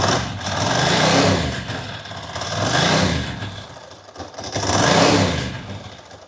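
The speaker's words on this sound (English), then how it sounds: "if I hold the clutch in, it sounds a lot nicer, obviously, because it's a dry clutch on this." A Ducati motorcycle engine with a dry clutch running nearby, a rough mid-pitched rumble that swells and eases in slow repeated rev surges, loud and without talk.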